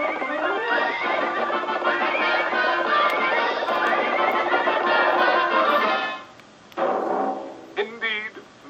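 Shrill, wavering horse whinnies and neighs fill the clip loudly, overlapping like a chorus, then fade into a few scattered calls.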